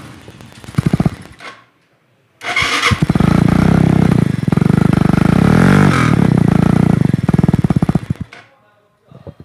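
A Yamaha YBR 125G motorcycle engine starts, cuts out briefly, then restarts and idles loudly and steadily close by, with a few revs before dropping away.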